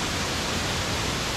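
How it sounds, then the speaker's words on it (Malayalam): Steady, dense rushing roar of a waterfall at Manippara near Keezhillam, loud and continuous with no pauses, no voices over it. "പിന്നെ ഇവിടെ വേറെ വെള്ളച്ചാട്ടം ഉണ്ട്."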